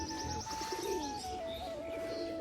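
Domestic pigeons at their coop coo in soft, low, rolling calls, with a male chasing females ahead of egg-laying, close by, with faint chirps and a steady background hum and no talking.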